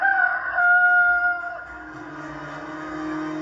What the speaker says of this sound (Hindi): एक पड़ोसी का मुर्गा आके गेटवे पर